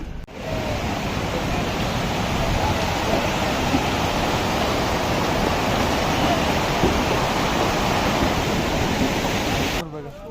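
A river rushes beneath a frozen glacier on the Amarnath Yatra route, a loud, steady broadband roar of flowing water that holds evenly for about ten seconds.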